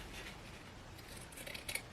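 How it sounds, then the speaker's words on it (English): Fabric shears snipping around the edge of a sewn cloth mask pattern, a few soft close cuts and rubs, quiet and brief, ending in a slightly louder snip. "I will take my shears and then cut around"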